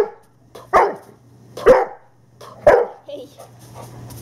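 A Doberman barks three times close by, the sharp barks evenly spaced about a second apart with quiet in between.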